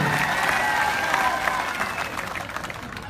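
A crowd applauds with dense, steady clapping that gradually thins and fades out over a few seconds.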